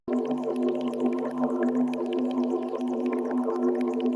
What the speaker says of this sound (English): I guess that's what Electric Bubbles sounds like.